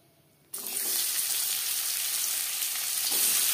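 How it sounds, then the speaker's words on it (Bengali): Chopped onions hit hot refined oil in a wok and a loud sizzle bursts in after a quiet half second. The frying then holds a bright, steady hiss to the end. "পেঁয়াজ আমি হালকা করে ভেজে নেব"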